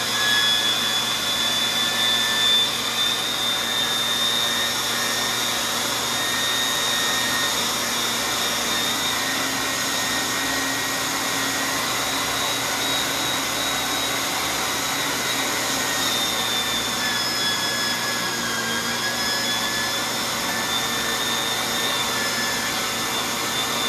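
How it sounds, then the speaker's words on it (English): A Cabela's electric meat grinder running on its grind setting, giving a steady, loud motor whine with a constant mechanical hum that holds unchanged throughout, with no talking. "We're gonna go ahead and run this through, and we're gonna put it on grind."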